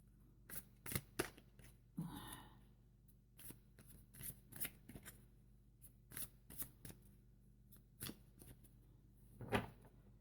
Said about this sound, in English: I'm going to just shuffle the cards a little bit more.